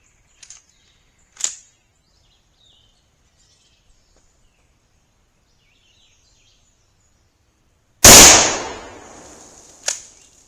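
A Remington Model 141 Gamemaster slide-action rifle fires .35 Remington 200-grain factory rounds: one loud, sharp report with a decaying tail, preceded by a few faint clicks and followed by a short sharp crack, with no talking.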